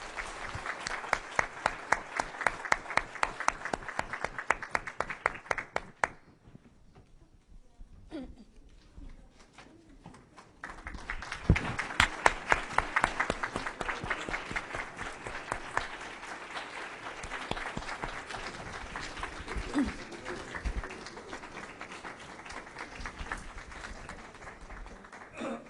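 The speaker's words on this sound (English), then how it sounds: "another big round of applause to all the speakers and Mr. Ramirez for a wonderful start to the event" Convention hall audience applauding the speakers after an international opening session, steady mid-distance clapping that fades briefly, then swells again and slowly thins out.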